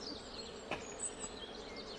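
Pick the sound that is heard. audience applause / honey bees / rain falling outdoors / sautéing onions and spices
honey bees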